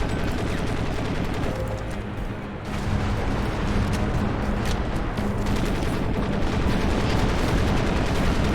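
Tanks firing on a building in the PC shooter Crysis, a continuous barrage of loud rumbling blasts and gunfire that runs without pause, dense and close.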